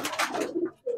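Pakistani pigeons in a loft giving short, soft coos, a couple of low murmuring calls close by within about a second, with no talk over them.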